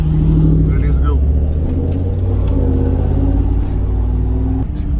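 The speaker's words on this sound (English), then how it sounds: "let's fire this up and see if it's running better" A Camaro fitted with a 326 Power Wing engine runs on a test drive, its steady low engine drone and rumble loud and continuous, swelling slightly before dropping off near the end.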